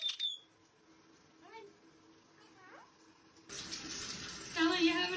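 Running water sprays from a shower onto a pet parrot, a soft hiss starting partway through, with faint bird chirps before it.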